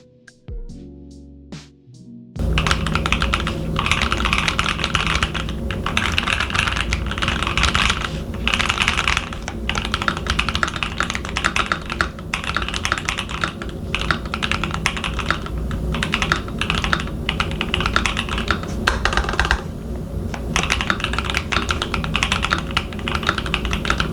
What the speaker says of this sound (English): Let's do the typing test to see how, or the sound test of the keyboard to see how it sounds.